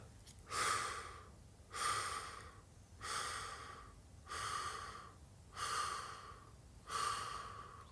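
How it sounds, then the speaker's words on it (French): Slow, deliberate breathing during a calm concentration exercise: six evenly spaced breaths, each a soft airy rush that swells and fades, close and alone. "J'inspire. J'expire."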